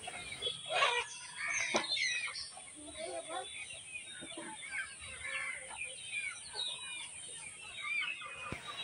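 Sonali chickens cluck and chatter steadily across a poultry farm in West Bengal, a busy flock sound under a faint high hum, with no clear speech.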